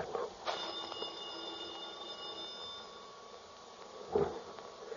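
An old-time radio drama telephone rings in a quiet room, a steady bell tone lasting several seconds with a brief louder burst near the end, with no talk over it.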